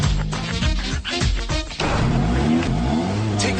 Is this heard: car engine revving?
yes